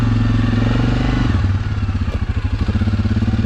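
A Suzuki KingQuad or Yamaha Kodiak ATV engine runs loud and close on a rainy ride, a steady drone that shifts into a pulsing, throbbing putter as it settles into a lower, choppier rhythm.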